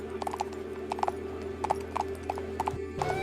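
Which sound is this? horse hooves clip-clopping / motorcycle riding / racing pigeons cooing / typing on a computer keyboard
horse hooves clip-clopping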